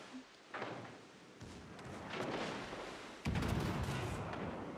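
Turrets fire during a chaotic video game battle, producing a dense stream of booming, rumbling blasts and crackling explosions that swell and surge, with a heavy burst partway through.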